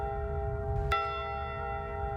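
The Edmund Fitzgerald's ship's bell, struck once at the Great Lakes Shipwreck Museum, gives one sharp clang that rings on in a long sustained tone over a sustained low hum and a steady background tone.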